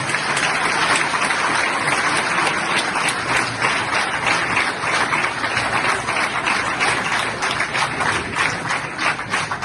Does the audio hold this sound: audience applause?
yes